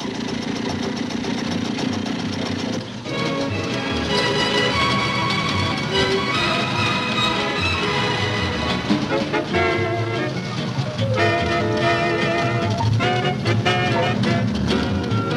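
A Jawa scooter engine runs steadily at moderate volume, with a buzzing, slightly knocking mechanical tone that shifts a little in pitch and intensity over about fifteen seconds, with no voices over it.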